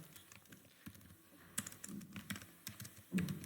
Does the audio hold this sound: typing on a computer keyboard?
yes